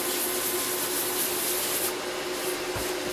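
Sandpaper rubbing steadily across a cured UV finish, a continuous close abrasive hiss with a brief pause and change in stroke near the end.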